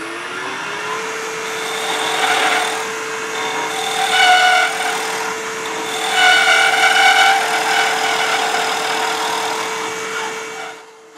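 A wooden coffee scoop spinning on a lathe as a skew chisel takes it down, with a steady motor hum under a continuous scraping hiss that swells and fades a few times before stopping.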